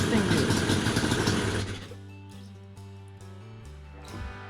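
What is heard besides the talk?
Yamaha Banshee 350 engine idling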